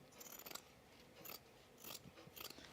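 Scissors cut fabric for a cropped jacket in several short, crisp snips at an uneven pace, close but faint, with no talking.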